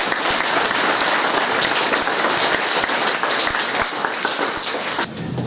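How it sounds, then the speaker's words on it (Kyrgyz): Dense, continuous applause from an audience at a religious talk in Jalal-Abad, many hands clapping steadily for several seconds to welcome guests, fading slightly at the end. "Биздин балдарыбыз ыраазычылык билдирип, жалпы келген конокторубузга бир жакшы кол чаап коелу."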